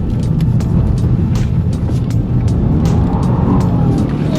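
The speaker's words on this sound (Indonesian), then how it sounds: "si Boxer engine ini langsung screaming, langsung high RPM gitu ya" Subaru WRX sedan's boxer engine screaming at high RPM on wet asphalt during sudden zigzag maneuvers, a loud continuous roar with road and wind noise, heard from inside the car.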